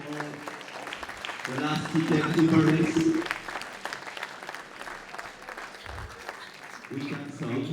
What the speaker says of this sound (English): So please applause for all the finalists